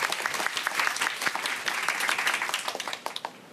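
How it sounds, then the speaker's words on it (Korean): Sustained audience applause fills a youth talk concert hall as a guest is welcomed onto the stage, dense and steady clapping from a large crowd throughout, tapering slightly toward the end with a few distinct claps standing out. "박수로 맞아주십시오."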